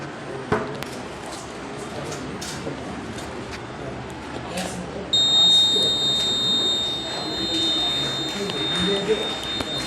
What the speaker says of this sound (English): This buzzer makes sound when the water falls on.